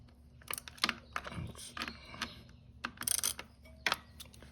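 A wrench loosening the 5mm cover bolt on a Honda Dax125 motorcycle during a valve adjustment: a few light metallic clicks and ratcheting taps in a quiet workshop, close by.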